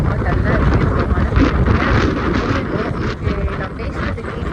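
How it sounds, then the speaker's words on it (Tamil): Strong gusting wind buffets the microphone in rainy, overcast weather outdoors, a loud continuous low rumble with surging gusts throughout. "காற்று செம்மையாக அடிக்குது."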